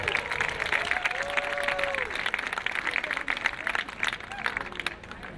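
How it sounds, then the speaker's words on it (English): A graduating master's class at a degree ceremony receives sustained applause from a large audience, a dense, steady clapping that fills the whole stretch with a voice faintly audible over it. "Everyone deserves a big round of applause."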